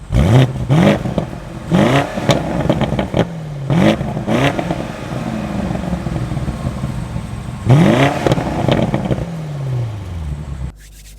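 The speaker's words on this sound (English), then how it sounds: "Car sounds pretty good." A BMW car engine revs repeatedly, rising and falling in pitch through several bursts of acceleration, loud and close, with a steady engine hum between the revs.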